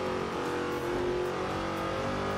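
A Chevrolet Corvette engine revs in the racing game Forza Horizon 2, a loud, dense engine roar with a sustained rise and fall in pitch over a couple of seconds, with no talk over it.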